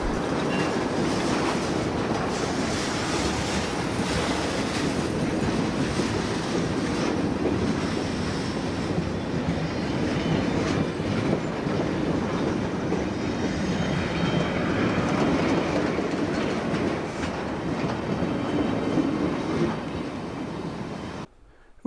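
Trains on the railroad at CP Heights in Needham run past steadily and loudly, with a continuous rumble, rattling wheels and a faint clickety-clack that stays close and unbroken for about twenty seconds before cutting off.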